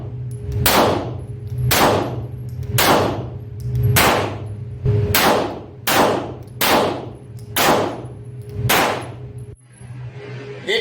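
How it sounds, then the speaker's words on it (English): Pistol shots crack out one after another at a steady pace, about nine sharp loud reports with a constant hum beneath; the final round is a primer-only squib load. "So I'm going to fire 3 or 4 good rounds, and then there's going to be one at the end that's going to have a light load."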